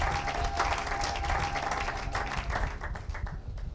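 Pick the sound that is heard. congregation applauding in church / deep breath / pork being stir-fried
congregation applauding in church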